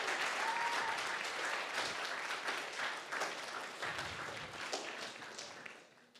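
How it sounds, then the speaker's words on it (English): Audience at a symposium applauding after a presentation, a dense sustained round of clapping from a room full of people that gradually tapers off toward the end. "Can we get one last round of applause for Miss Lila?"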